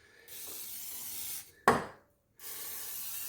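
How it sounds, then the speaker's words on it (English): Oil sprayed from an aerosol can onto rusty bolts on an ATV during differential fluid service: two close, steady hissing bursts with a brief knock between them. "it's a good time to take some oil, just spray down if you got any rusty bolts."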